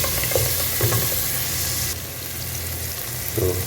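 Whole spices such as cinnamon, cloves and cardamom frying in hot oil for a Dindigul-style mutton biryani, a steady sizzle with a few soft stirring clinks and scrapes, close and continuous with no talking.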